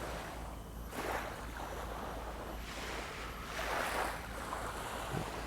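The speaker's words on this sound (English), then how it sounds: "I'm going to turn the camera around so that you can see some of the calming, lapping waters" Calm sea water laps gently against the shore at a quiet Coney Island beach in Singapore, making a steady wash of surf with soft swells and some wind noise, no voices.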